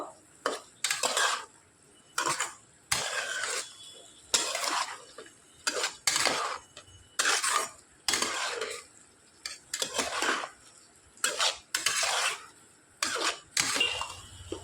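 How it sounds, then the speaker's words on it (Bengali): Boiled flour snack pieces and vegetables are tossed and stirred in a pan, a utensil scraping and clattering in a steady run of about a dozen loud, close strokes with short pauses between them. "এগুলোকে এবার দিয়ে দিচ্ছি নাড়াচাড়া করে মিশিয়ে নেবো"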